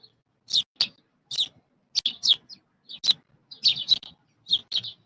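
Small birds chirp outdoors in a series of sharp, high tweets, coming singly and in quick pairs at an irregular pace, fairly close and clear against a quiet background.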